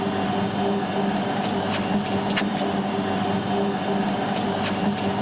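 A large dough mixer turns slowly in second gear while kneading a small batch of biga for pizza and bread. It gives a constant mechanical hum and rumble with a few sharp clicks and scrapes, and a voice speaks faintly beneath it.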